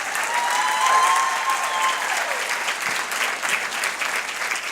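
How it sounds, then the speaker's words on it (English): An audience at a United Way campaign kickoff event applauds steadily, a dense, even wash of clapping that holds for several seconds without talk over it. "One more time, a round of applause for Pam Gregory"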